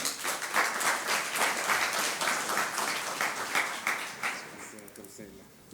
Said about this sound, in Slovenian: Prosim za aplavz.